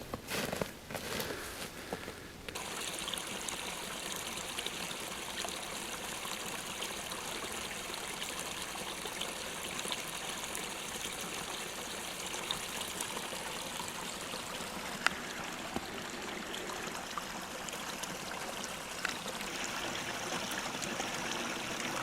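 Creek water trickling and flowing steadily through winter woods, a soft continuous babble heard close at low volume with a few faint footsteps and rustles early on.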